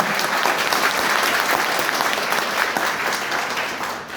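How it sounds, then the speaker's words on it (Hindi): Loud, sustained applause from an audience at a company get-together in Indore: a thick, continuous roar of many hands clapping at once with no pauses, fading slightly at the very end. "एक बार जोरदार ताली होना चाहिए हमारी कंपनी को"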